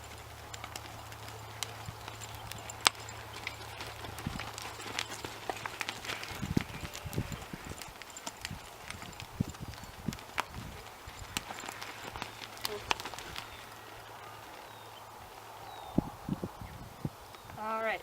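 A ridden horse's hooves clip-clop as it walks small bending circles in an arena, with soft steady footfalls in an irregular rhythm under a quiet background hum, moderately close.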